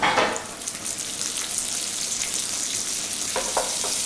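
A pat of butter drops into a pan of sizzling pancetta for a pea pasta, bursting into a loud crackling fry that settles into a steady close sizzle, with a few sharp pops near the end.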